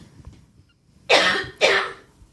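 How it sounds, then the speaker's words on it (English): A woman with a cold lets out two harsh, close coughs in quick succession, the first a short burst and the second slightly longer, against a quiet room. "I'm going to cough."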